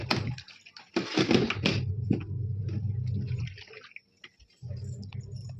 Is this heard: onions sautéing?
no